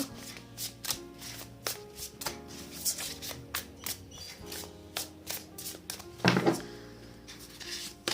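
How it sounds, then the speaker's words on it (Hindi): Tarot cards are shuffled in the hands, repeated crisp riffles and soft slaps of the deck coming in quick bursts, close and fairly quiet, with a louder flurry near the end. "Okay, I will take these cards again in the deck. Okay, उनके साथ ही हम शफल करेंगे।"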